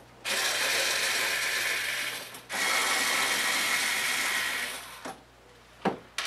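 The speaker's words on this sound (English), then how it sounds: "We're going to remove the four screws at the meter end." A power driver whirs close up, taking out the screws on the meter end cover of an SEC battery charger in two long, steady buzzing runs, followed by a few brief clicks and taps.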